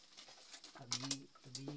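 Inside a cave, a bird gives soft, low coos, two short calls separated by a pause, close and echoing against quiet surroundings.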